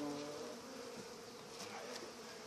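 Honey bees buzz steadily around an opened hive during an early spring inspection at an allotment, a dense, even hum with individual insects drifting close now and then.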